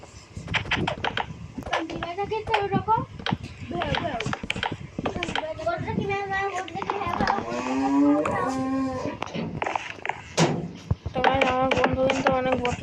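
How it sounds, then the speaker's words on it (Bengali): Minecraft cows moo repeatedly over rapid keyboard and mouse clicking, with a voice talking and chattering over much of the gameplay. "গরু ডাকে হাম্বা হাম্বা"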